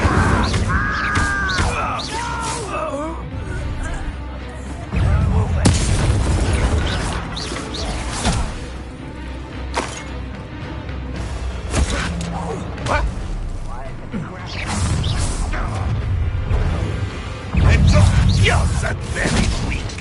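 An Incendio fire spell is cast in a Harry Potter video game, with whooshing bursts and booming blasts of flame amid game effects and music while voices speak over the action.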